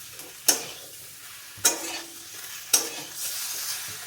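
Vegetables frying in a pan on a home stove, with three sharp stirring scrapes at regular intervals, each followed by a brief burst of sizzle over a quiet background hiss.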